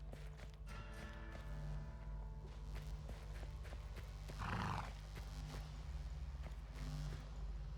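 A horse in the Weird West video game whinnies once amid steady clip-clop hoofbeats, with the neigh standing out midway over soft, continuous game ambience.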